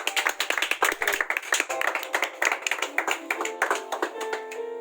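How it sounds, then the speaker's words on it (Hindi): Audience clapping for science quiz winners at a school prize event, a steady patter of many hands close by that goes on throughout without easing. "तालियां बजते रहनी चाहिए।"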